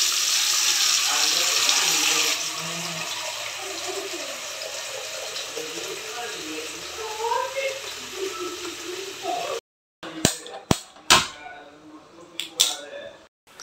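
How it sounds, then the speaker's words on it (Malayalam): Tap water runs steadily into a pot being filled for tea in a home kitchen, a close continuous gush that fades, followed by clinks and knocks of the pot. "ചായക്ക് വെള്ളം എടുക്കുകയാണ്"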